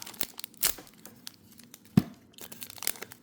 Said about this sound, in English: I should be able to just open the pack right there, I believe.